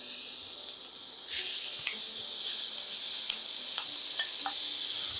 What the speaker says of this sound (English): So we're gonna put that meat right in and try to put it in an even layer on the pan.